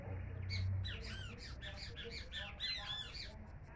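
A neighbour's chickens squawk and cackle in a busy, overlapping run of calls at moderate distance over a low background rumble.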